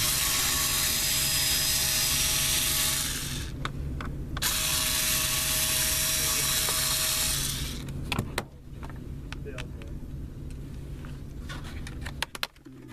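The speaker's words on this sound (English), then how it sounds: "Take out 3 screws at the bottom." A screwdriver removes the bottom screws from a Dell Latitude 6440 laptop, with a ratcheting whir in bursts over a steady hum, then sharper clicks and clatters of handling near the end.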